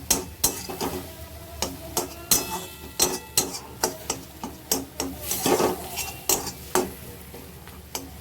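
A spoon clinks and scrapes against a cooking pot in a steady rhythm of sharp strikes, about two each second, while a vegetable curry of potato, pointed gourd and pumpkin is stirred. There is no talking.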